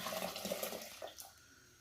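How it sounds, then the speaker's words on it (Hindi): Cold water poured from a jug over black whole lentils (mash daal) cooking in a pot, a steady watery splash for over a second that tapers off into quiet. "आधा जग ठंडा पानी मैं इसमें इसे ऊपर से डालूंगी।"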